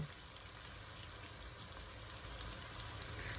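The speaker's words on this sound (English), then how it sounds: "now we're just going to place our patties in, and we are going to cook them low and slow" Patties sizzling gently in a heated pan on low heat, a soft, steady frying crackle with faint pops, quiet and without speech.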